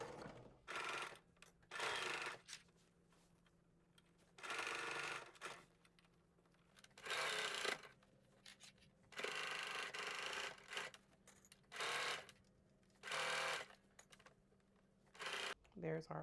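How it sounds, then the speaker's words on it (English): A sewing machine runs a basting stitch along a skirt waistband at 5/8 inch seam allowance, whirring in repeated short bursts of a second or so, separated by quiet pauses, close and clear. "we're going to be using a basting stitch at 5/8 of an inch seam allowance"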